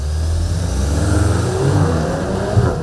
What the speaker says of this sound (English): you'll get a purposeful exhaust burble that sounds promising. As is the reaction to your right foot once you engage launch control and floor it